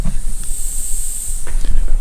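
Compressed air hisses steadily from a leaking glued pipe joint in a workshop compressed-air system, a loud, continuous high-pitched hiss close by, with a couple of faint knocks.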